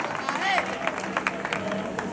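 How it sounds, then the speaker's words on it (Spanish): Crowd applause for a recortador at a bull event in Gelsa, Zaragoza, a steady patter of clapping from the stands with someone talking over it throughout. "Son todas tuyas estas palmas"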